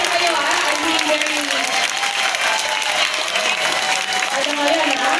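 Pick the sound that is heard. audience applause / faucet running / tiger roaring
audience applause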